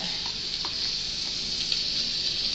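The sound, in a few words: ground pork and onion frying in a wok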